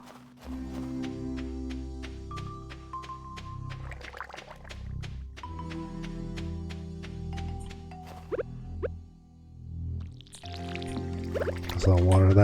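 A watering can is poured over crops on a farm in the game Stardew Valley, giving soft splashing and pouring bursts over steady background music.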